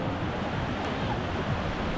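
Big surf waves crash and wash continuously onto a beach, a loud, steady broadband roar with wind buffeting the microphone throughout.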